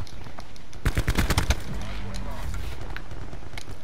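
Rapid bursts of ICR assault rifle fire in Black Ops 4, a quick cluster of sharp shots in the middle over steady game noise, with voices talking in the background.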